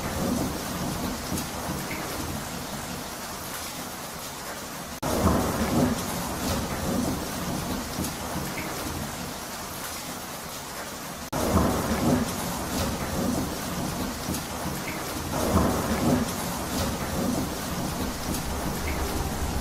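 Heavy rain pours steadily in a thunderstorm sound effect, with loud rolling thunder crashing in about every five seconds and then rumbling away under the downpour.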